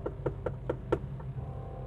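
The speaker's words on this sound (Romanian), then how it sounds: "Hai să batem la ușă." Five quick knocks rap on a door in an even rhythm, fairly close and moderately loud, followed by a low steady background hum.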